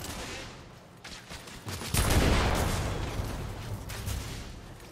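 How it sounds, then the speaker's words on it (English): Heavy gunfire in The Order: 1886, dense rattling bursts and booming blasts that swell after a brief lull into a loud sustained fusillade, with no talking. "I'm under heavy fire."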